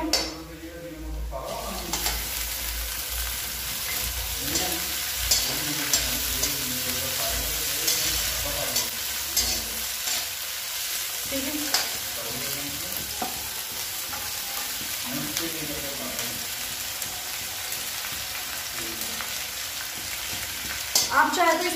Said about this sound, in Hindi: इसको 10 मिनट तक फ्राई होने के लिए छोड़ देंगे